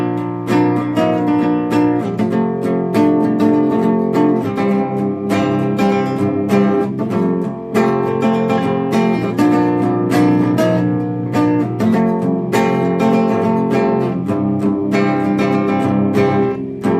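Strummed guitar chords in an unusual C F Bb Eb G C open tuning, ringing out in a steady, loud, sustained progression with rich overlapping strings and no talking.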